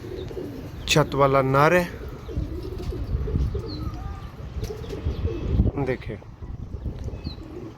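Sialkoti rooftop pigeons coo at close range, with one loud drawn-out coo early and another later, alongside faint chirps while someone talks over them.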